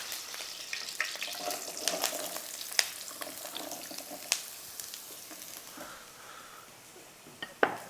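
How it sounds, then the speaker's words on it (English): Zucchini sautéing in hot fat in a pan gives a steady, gentle sizzle up close, broken by occasional clicks and utensil taps, with no one speaking. "We're going to give that a nice saute."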